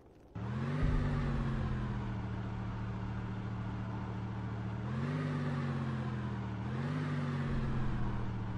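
A military truck engine in the WWII strategy game Sudden Strike 4 starts up into a steady droning hum, its pitch rising briefly twice as it revs. It runs moderately loud and alone, with no talk.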